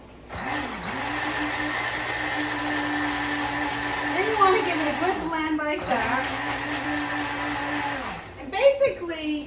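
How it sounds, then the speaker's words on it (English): Close and loud, a blender purees low-carb Italian tomato sauce, its motor whining steadily with pitch rising and dipping as the load shifts, then cutting off near the end, with a voice speaking over it. "for this, you just want to blend this"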